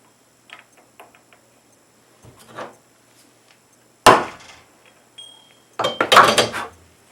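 A few sharp hammer blows flatten a burr on a copper part in a workshop, arriving as scattered metallic knocks and clinks with pauses between them, the loudest strikes bunched near the end.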